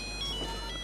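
A phone ringtone chimes briefly and faintly, a steady tonal ring lasting under a second with no talk over it.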